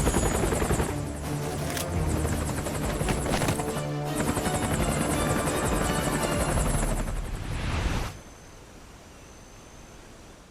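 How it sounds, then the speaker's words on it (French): A helicopter roars steadily in the Metal Gear Solid Peace Walker video game, with loud, dense rotor thumping and whine for about eight seconds before it cuts off abruptly into quiet. "On va combattre un hélicoptère."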